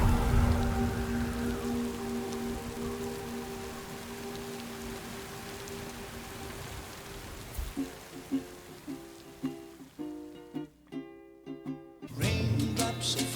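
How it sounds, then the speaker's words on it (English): Rain pours steadily in the Death Stranding 2 video game, a dense hiss of falling drops that slowly thins, followed by a series of short thumping impacts and a louder burst near the end. "Raindrops are falling on my head"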